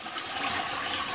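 A dual flush toilet, converted with a new flush valve, lets out a full flush: a loud, steady rush of water close by, with no voices.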